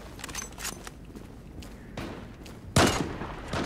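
Gunshots in a war video game set on a Northern Iraq map: scattered distant pops and shots, then one louder close crack near the end, with faint background ambience and no clear speech.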